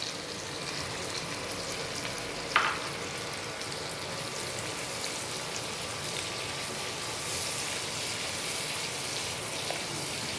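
Onion and capsicum fry together in a pan for a pasta dish, producing a continuous soft, even hiss with one brief click partway through.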